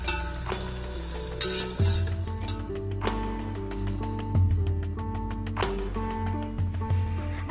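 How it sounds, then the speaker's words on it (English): Sliced onions sizzling in hot oil with dry spices in a pot for chicken dum biryani, a steady close crackle with occasional louder spits and light stirring clinks under a music track. "Then add our sliced onions and let this fry till it turns golden brown."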